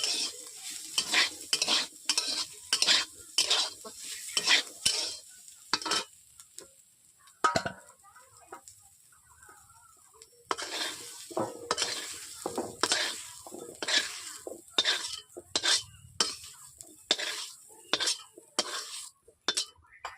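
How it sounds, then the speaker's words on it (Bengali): Potatoes fry in a wok while a utensil stirs and scrapes against the pan, producing irregular bursts of clattering scrapes over a faint sizzle, with brief quiet gaps between stirring strokes. "আলুগুলো ভাজা ভাজা হয়ে গেছে, লালচে কালার হয়ে গেছে"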